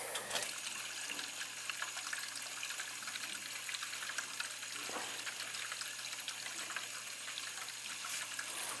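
Water rushes through boiler piping while air is purged from the system, a steady gushing flow with a low constant hum beneath and an occasional sputter.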